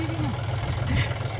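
A tractor engine runs steadily while hauling sand out of a river, a continuous low rumbling chug that fills the whole stretch without pause.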